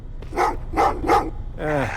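Dogs bark in the video game Terminator Resistance: three loud, close barks in an uneven rhythm, then a drawn-out whining yelp at the end.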